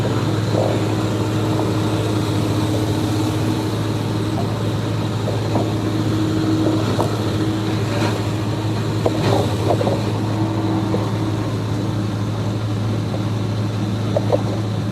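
A large tub grinder chews cedar into mulch with a loud, constant mechanical drone and strong steady low hum. Occasional knocks and crunches rise over the drone as wood feeds through.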